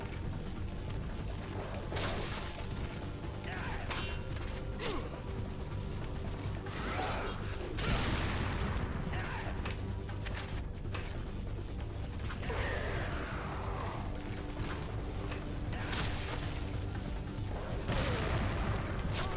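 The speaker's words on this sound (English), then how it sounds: "That was a rocket launcher." Rocket launcher fire in Resident Evil 4 against Krauser, heard as dense, continuous game combat with repeated bursts, mechanical clanks and rumbling explosions over a constant noisy background, with no talk.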